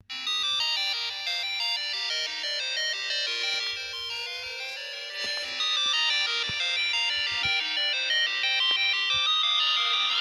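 A bright, tinkling electronic melody plays steadily from a recording, high and chiming like a ringtone, with a few faint thumps underneath.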